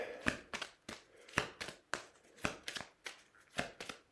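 Tarot cards being handled and shuffled up close, a series of about a dozen crisp riffling snaps in an irregular rhythm, quiet and without talking.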